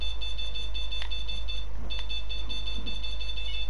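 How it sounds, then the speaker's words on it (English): A fishing bite alarm buzzer sounds beside the water, giving a continuous high-pitched electronic tone that drops out briefly midway, over a steady low rumble. "My buzzer's gone off badly."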